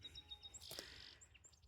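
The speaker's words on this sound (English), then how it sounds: "there was this chorus of birds singing." Several birds chirp and tweet on a morning walk, faint high calls scattered through the clip with one brighter burst near the middle over quiet outdoor background.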